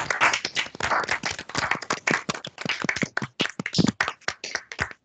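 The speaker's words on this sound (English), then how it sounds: "we would like to have one more round of applause and thank the speaker." Clapping from a small group closing an academic colloquium talk, a brisk patter of individual hand claps, fairly close and uneven, thinning toward the end with gaps between the last few claps.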